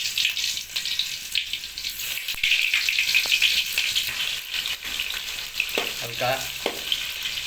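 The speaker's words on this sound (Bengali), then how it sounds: "তো আমাদের কড়ার মধ্যে অয়েল দেওয়া হয়ে গেছে, আর পেঁয়াজ দেওয়া হচ্ছে।" Sliced onions sizzle and crackle in hot oil in a wok while being stirred, a steady frying hiss with occasional scraping clinks.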